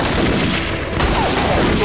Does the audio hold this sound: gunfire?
yes